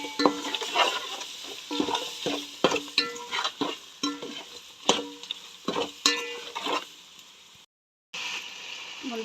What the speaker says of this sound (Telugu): ఇవన్నీ వేసుకున్న తర్వాత ఒకసారి మిక్స్ చేసేసుకుంటున్నా